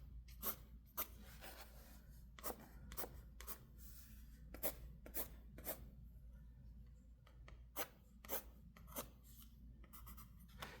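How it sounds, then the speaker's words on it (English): A pencil scratches marks onto watercolor paper in a series of short, dry, close strokes, irregularly spaced, over a low background hum. "I'm going to just take my pencil and I'm going to make some more marks like this"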